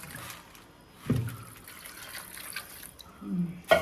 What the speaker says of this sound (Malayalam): വെള്ളം ഒഴിക്കാൻ പോകുന്ന ഇത് വേകാനുള്ള വെള്ളം